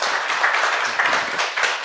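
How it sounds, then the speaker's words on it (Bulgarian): An audience at the premiere of Angel Dyulgerov's poetry collection applauds in a steady, dense patter of many hands that holds at an even level through the brief moment. "Аплодисменти."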